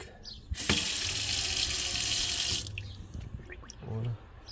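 Water runs from a tap into a sink in a Mercedes Sprinter camper van, a steady splashing stream for about two seconds, then shuts off, followed by small clinks.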